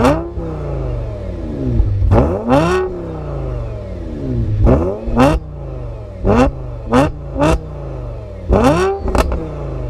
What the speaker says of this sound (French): C'est le moteur de la Lamborghini Gallardo, qui à l'époque faisait 520 ou 510 chevaux.